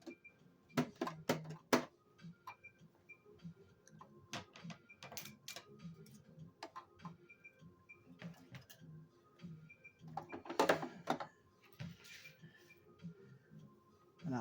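A sewing machine back stitching at the end of a seam on fabric girly headgear, with intermittent bursts of rapid mechanical ticking and short pauses between runs, fairly close.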